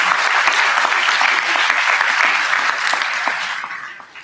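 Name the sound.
audience applause for Mr. Lewis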